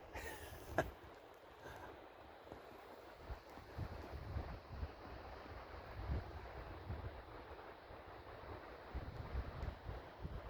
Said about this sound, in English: All I can hear are the waves down there hitting the cliffs.